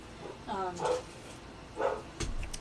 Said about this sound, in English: Please excuse my dad's dog.